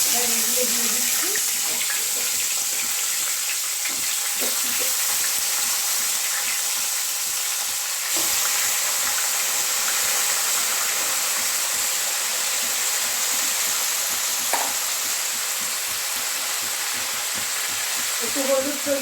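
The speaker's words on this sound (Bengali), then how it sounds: "ফুলকপিগুলো একটু ভালো করে ভেজে নেব" Cauliflower florets, cut small and sprinkled with turmeric and salt, fry in the oil left from frying fish, giving a steady broadband sizzle. The noise is loud and continuous across the clip, with faint kitchen clinks now and then.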